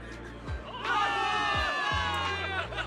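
In-game crowd of soldiers in Zenless Zone Zero cheers and whoops for victory, a loud sustained roar of many voices with sharp shouts rising over it.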